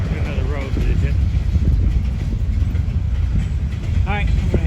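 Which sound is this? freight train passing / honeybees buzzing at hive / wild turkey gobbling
freight train passing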